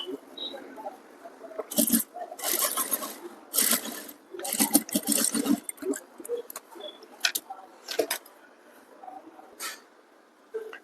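A sewing machine stitching a festive Sabyasachi-style blouse, running in several short bursts of rapid needle chatter separated by pauses, with quiet handling noises in between.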